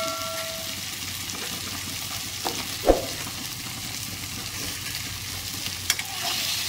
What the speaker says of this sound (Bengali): এই বেগুনগুলো এবার আমি একটু ভেজে নেব।